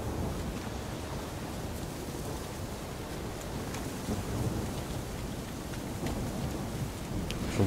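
Steady heavy rain with rolling thunder in The Witcher 3, a dense continuous wash of downpour with low rumbles underneath, close and even throughout.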